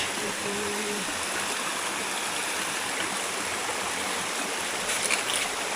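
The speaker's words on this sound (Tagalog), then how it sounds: "Lumalagaslas na ang tubig." Water rushes over rocks in a stream in Bicol, a close, dense, continuous roar of flowing water that holds steady from start to finish.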